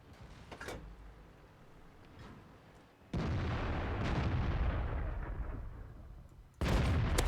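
KV-5 tank gun firing in the game World of Tanks, two heavy booming blasts a few seconds apart, each followed by a long rumbling roar, over quieter engine and battle noise, with no talk.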